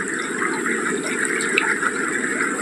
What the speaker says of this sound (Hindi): देखो पानी कितना मस्त चल रहा है इसमें